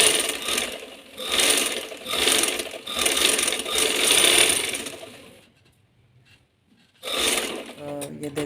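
A sewing machine stitching a baby frock, with repeated close bursts of rapid mechanical whirring and clatter in rhythmic runs, a quiet pause, then another burst.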